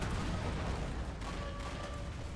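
Gunfire in the war game Foxhole, a dense continuous roar of overlapping shots and booms at steady loudness, with no pauses.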